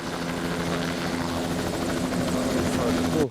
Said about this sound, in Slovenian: končno dobimo malo helikoptera